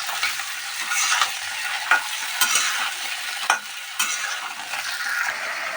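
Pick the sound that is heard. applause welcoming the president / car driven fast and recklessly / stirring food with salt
stirring food with salt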